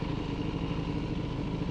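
A 2005 Yamaha WR450 motorcycle on the road gives a steady, close, throbbing single-cylinder engine drone with a rapid pulsing beat and no talk over it.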